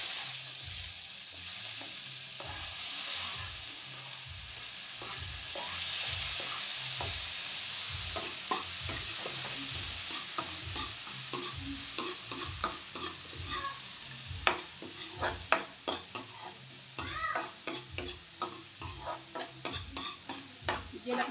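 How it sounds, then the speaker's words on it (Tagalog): Onions sautéing in a frying pan, a continuous bright sizzle with a repeated low scraping as the pan is stirred, then sharper clicks and taps of the utensil toward the end. "magigisa na po tayo ng sibuyas at kamatis"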